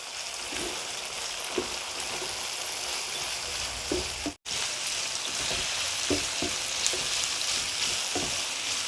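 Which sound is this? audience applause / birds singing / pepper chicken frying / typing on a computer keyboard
pepper chicken frying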